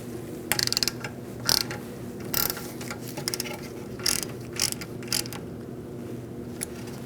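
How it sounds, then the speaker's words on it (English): Screw being driven and snugged on the rear brake of a 2008-2014 Mercedes-Benz C300 during a parking brake shoe job, giving short bursts of metallic ratcheting clicks at a close, moderate level with low hum between them. "Put in your screw and snug it up."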